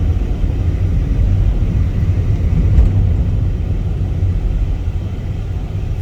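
A 2011 Volkswagen Vento Highline petrol car with a DSG automatic gearbox driving in third gear at moderate speed, giving a steady low road and engine rumble heard from inside the cabin, with no voices.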